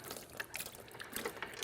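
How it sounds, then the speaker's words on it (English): Tap water drains from a sterilizer reservoir with a faint, uneven trickle and scattered small drips and splashes, soft and close, with no voices. "you would let this drain until the water flow stops"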